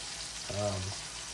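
Mushrooms freshly picked from a stump fry in a pan with a soft, steady sizzle, briefly overlapped by a short voiced sound.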